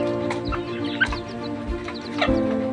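Labuyo wild junglefowl kept as domestic birds cluck repeatedly in short, irregular bursts, close by and fairly loud, against a steady background hum and with no talking.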